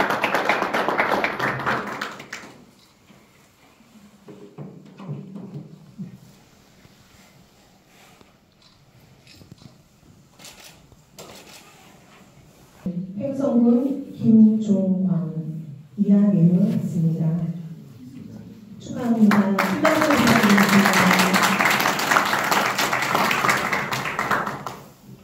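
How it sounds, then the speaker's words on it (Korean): An audience applauds at a graduation ceremony for an agricultural academy's farmer instructor training course, with a broad burst of clapping at the start and a longer one at the end, and a person speaking in between. "홍박수 부탁드리겠습니다"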